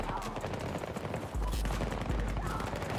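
Rapid bursts of gunfire from a sniper rifle in the video game Battlefield, loud and close, with heavy low booms and dense clattering shots packed tightly together.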